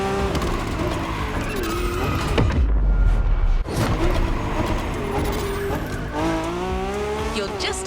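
A car drifts in The Crew Motorfest, high above the ground among wind turbines, with a loud revving engine and long, sweeping tire squeals that rise and fall through the slide, plus a deep rumbling burst midway.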